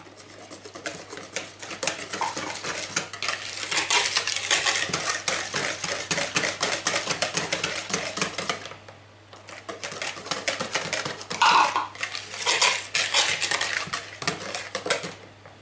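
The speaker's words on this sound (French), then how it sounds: "On va mélanger le beurre avec le lait qu'on va passer au micro-ondes." Butter and milk, warmed in a microwave, stirred together in a bowl for a Japanese cheesecake, giving a steady run of close, busy clinking and scraping of a utensil against the bowl, with a short pause partway through.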